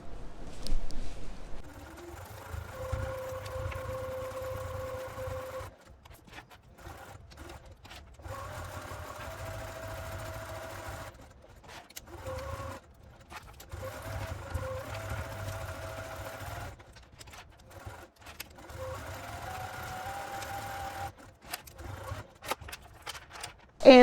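A sewing machine stitches fabric tape in several runs of rapid mechanical whirring and humming, stopping and restarting with short pauses between passes, close and moderately loud.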